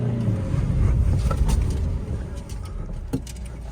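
A Hyundai Venue revs and spins its tyres on a wet road in the rain, with a steady rumbling engine and a hissing road-spray wash, plus a few brief squeaks and clicks near the end.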